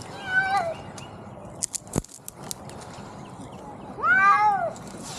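A cat stuck up in a tree meows twice, a drawn-out cry at the start and a louder wavering one near the end, with faint rustling and scattered ticks between.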